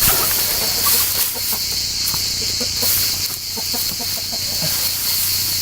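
Chickens cluck in short, scattered calls while scratching about, close by and riding over a loud, steady background hiss and hum.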